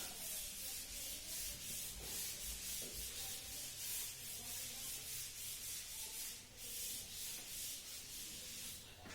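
A board eraser rubs chalk writing off a board during a multiple integrals lecture, a steady scrubbing that runs in repeated strokes for the whole stretch, fairly close and with no voices over it.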